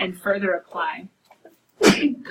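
In a precalculus classroom, a teacher talks briefly, then one sudden, loud sneeze bursts out after a short pause.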